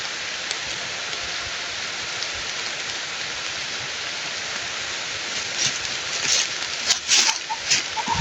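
Heavy rain pours in a steady, dense hiss that stays loud throughout, with a few sharper splashes and knocks near the end.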